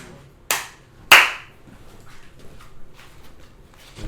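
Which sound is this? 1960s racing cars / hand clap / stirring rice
hand clap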